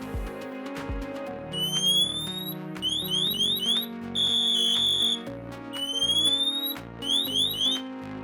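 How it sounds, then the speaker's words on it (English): A Dräger AirBoss Sentinel PASS alarm, manually triggered, blares loudly and close: repeated bursts of rising shrill electronic sweeps and piercing steady tones over a pulsing low warble, cycling without pause. "To test the manual activation of your pass alarm, press the yellow button on the AirBoss Sentinel."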